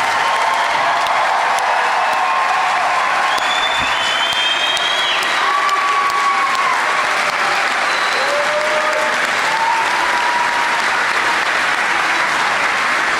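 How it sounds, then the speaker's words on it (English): Audience applause for graduating students at a university commencement ceremony, dense and sustained clapping from a large crowd that holds steady throughout, with faint cheers and whistles rising above it. "Audience, please give our esteemed graduates, the class of 2019, a warm round of applause."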